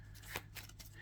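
A deck of trading cards is shuffled by hand in a quick, faint riffle, a few soft flicking bursts close by with low background hum and no talk.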